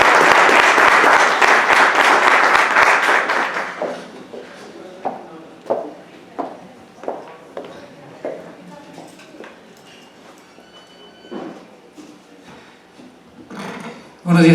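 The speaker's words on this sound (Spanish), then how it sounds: "Vamos a recibir con un fuerte aplauso al doctor" An audience gives loud welcoming applause for a doctor speaking at a hospital talk on plastic surgery consent. The dense clapping lasts about four seconds, then thins to scattered isolated claps and handling knocks, with a brief loud burst at the end.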